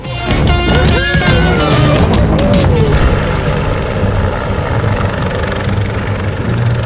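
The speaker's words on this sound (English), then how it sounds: "A helicopter takes off, just like a normal helicopter does, but then suddenly dives face first towards the ground." A helicopter lifts off and then dives steeply toward the ground on a mountain, its loud rotor and turbine roar filling the scene with sweeping pitch shifts early on before settling into a steady, dense drone.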